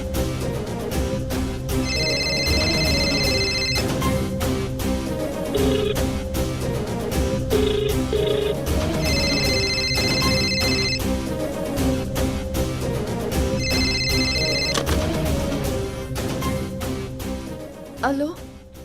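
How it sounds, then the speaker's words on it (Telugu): A telephone in a room rings in repeated electronic bursts, sounding three times over a busy, loud background of other sound. "నీ రూమ్లో ఉన్న ఫోన్ రింగ్ అయిందంటే మా పిన్ని గాని డాడీ గాని ఫోన్ చేసుంటారు."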